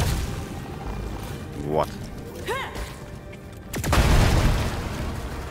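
A chunk of natural explosive blows up on an alien planet in a video game. A single loud boom rumbles out after some brief whooshing game tones. A voice speaks briefly.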